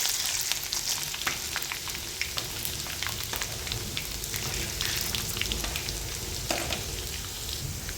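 Cumin seeds and chopped garlic frying in hot oil in a pan for Khandeshi brinjal bharit, a loud continuous crackling sizzle with dense spattering pops, close up and steady throughout.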